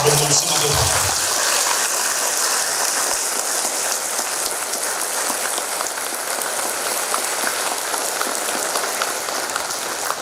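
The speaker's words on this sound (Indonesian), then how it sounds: "tulus tepuk tangannya untuk owner kita, Bapak Saud Selamat" A large seminar audience at a Ciloto Puncak training event applauds the company owner with dense, steady clapping that sounds like heavy rain, loud and sustained for the full stretch after a brief opening sound.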